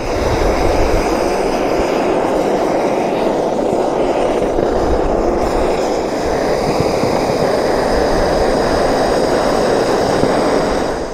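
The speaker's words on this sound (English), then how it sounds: "we'll go ahead and turn the gas on." A gas burner on a homemade DIY furnace for melting gold roars steadily and loudly, a constant broadband rushing with no pauses and no voices.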